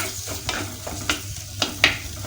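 Cooked tomatoes being mashed and stirred in a pan while making rasam: a sizzling simmer broken by four or five sharp taps and scrapes of a spoon against the pan at uneven intervals, close and clear.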